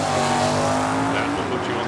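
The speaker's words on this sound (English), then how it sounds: "Running a 440-inch stroker small block in stock." A drag race car running a 440-cubic-inch stroker small-block engine on stock parts at a Hangover Nationals event, giving a loud, steady engine roar that holds for the full two seconds with no break.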